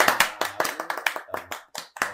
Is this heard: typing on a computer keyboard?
no